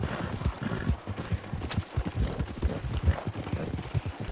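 In a Red Dead Redemption 2 winter endurance race, a palomino horse in harness trots along a trail, its hooves clip-clopping in a steady, close rhythm with soft ambient noise around them.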